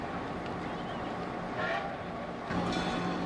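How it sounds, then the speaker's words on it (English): Two locomotives shunt into a siding to switch places at a railroad festival, a low continuous engine rumble and rail noise with faint rising swells, heard from a distance without talk. "While the passengers get off the train, 1293 gets in front of 6325 so the two engines can switch places."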